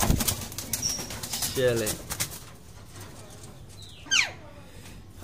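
Caged pet birds, including parrots, flap their wings in bursts against the cage walls near a nest box, with a few short chirps and calls while someone talks nearby.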